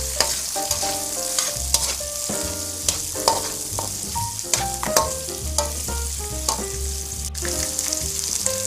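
Sliced onions hit a hot pan and fry for a Filipino beef and corn dish, giving a continuous close sizzle with frequent stirring clatter over soft background music.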